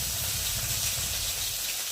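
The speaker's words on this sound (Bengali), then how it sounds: "তেলের মধ্যে এখন দিয়ে দেবো টমেটো।" Tomatoes dropped into hot oil in a home kitchen, a loud, steady, close sizzle and hiss that continues without a break.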